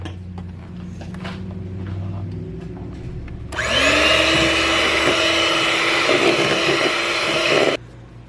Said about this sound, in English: we're going to add in a 1/2 cup of milk, and we're going to just whisk this together